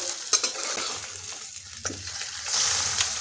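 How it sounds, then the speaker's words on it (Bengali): Eggs for an egg curry fry in a pan over low to medium flame, seasoned with salt and black pepper, giving a steady close sizzle with a few sharper crackles and a brief rise near the end. "এখানে আমি ডিমের পোচগুলো বানিয়ে নিচ্ছি"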